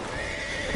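A horse whinnies in Assassin's Creed III, a single sustained, strained neigh heard up close and fairly loud, with no talk over it.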